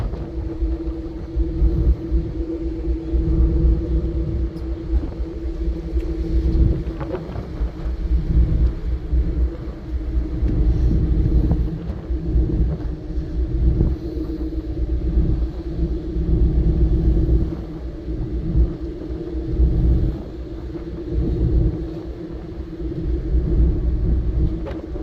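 Irish Ferries ferry Oscar Wilde entering the port of Dover, a steady deep engine rumble with a constant low hum and faint vibration throughout, no voices.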